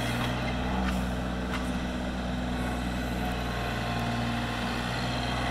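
A John Deere tractor runs steadily during yard work, its low engine drone and rumble steady and fairly close, with no voices.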